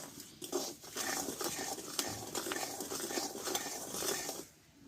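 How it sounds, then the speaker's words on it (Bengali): Puffed rice (muri) roasts in a pan on a stove while being stirred, making quiet scraping and rattling with light patter and faint crackle, steady for several seconds before fading. "মুড়িটা ফুটতে লাগছে আর কত সুন্দর মুড়িটা ভাজা হয়ে যাচ্ছে"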